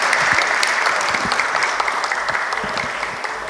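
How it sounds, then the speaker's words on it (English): Loud, sustained audience applause at a higher education awards ceremony, thick clapping from a large crowd that tapers slightly toward the end. "Ladies and gentlemen, please keep the applause going for them."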